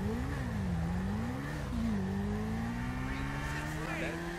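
A sport motorcycle with LED headlights and twin exhausts accelerates in the video game GTA 5, its engine note rising steadily in pitch as it revs up. The engine is loud and continuous, with a voice speaking over it.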